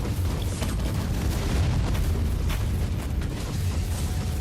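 An explosion in the Warhammer 40K Inquisitor action video game: a loud, sustained, rumbling blast with crackling bursts that rolls on for several seconds.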